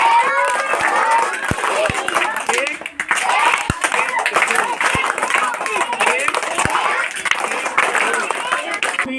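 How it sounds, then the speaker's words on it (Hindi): A group claps hands in sets of three at a school Safe Saturday activity, rhythmic bursts of close claps repeating under voices and crowd chatter. "3 सेट ताली में शुरू करना है।"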